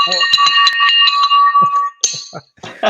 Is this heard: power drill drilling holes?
no